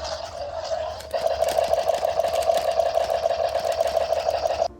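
A Yangchuanosaurus action-figure toy dinosaur whirs and buzzes, then jumps into a louder rattling electronic drone with rapid ticking that stops abruptly after a few seconds.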